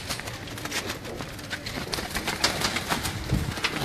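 Blue Kamgar pigeons coo in a loft, a low continuous murmur of soft calls with scattered fluttering and shuffling, moderately close and steady throughout.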